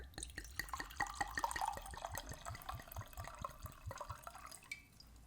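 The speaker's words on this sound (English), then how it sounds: "Good old ASMR pour." Drink poured into a glass close by, a run of small dripping, splashing liquid sounds that tails off near the end, with no talk over it.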